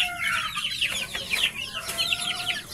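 Chickens clucking in a large coop on a small poultry farm, several birds close by with overlapping bursts of clucks and short calls throughout, fairly loud against low background noise.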